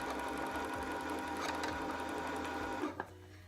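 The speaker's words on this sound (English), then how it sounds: "use your presser foot to start winding up your bobbin" A domestic sewing machine winding thread onto a bobbin gives a steady, close mechanical whir with a fine rhythmic ticking that holds level before a brief clunk as it slows near the end.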